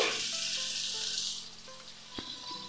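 Ridge gourd dropped into hot oil tempered with nigella seeds sizzles loudly and steadily, the hiss easing a little midway, with a soft clunk near the end.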